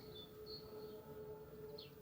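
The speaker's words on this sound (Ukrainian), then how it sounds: "Гарний краєвид, тільки сирена все портить" A steady, droning siren hum holds throughout, with faint high bird chirps scattered over it in an open outdoor setting.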